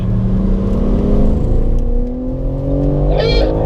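A track-day car accelerates at full power out of a corner at Circuit of the Americas, its engine note climbing steadily and loudly close by, with a steady whir and no talk.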